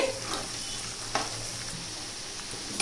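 Chicken pieces frying in groundnut oil for a pickle, a steady close hiss and sizzle with occasional stirring clinks against the pan, no talking.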